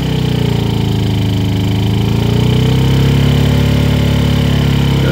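Honda EU2000i inverter generator that won't produce rated output, running on eco throttle: a loud, close, steady engine drone whose pitch dips and then settles as the load changes.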